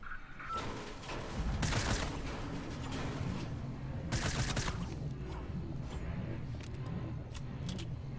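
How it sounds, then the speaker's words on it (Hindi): Gunfire in the Fortnite video game: rapid bursts of shots in a couple of loud clusters over a rumbling game backdrop, with sparse sharp single cracks afterward. "ये गन चला रहा है"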